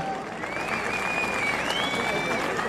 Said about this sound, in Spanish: El aplauso para recibirlo.